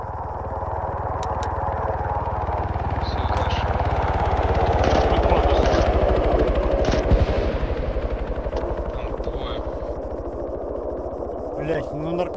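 In a multiplayer shooter, a helicopter's rotor chops steadily and loudly, swelling and passing amid bursts of gunfire, with players talking over it.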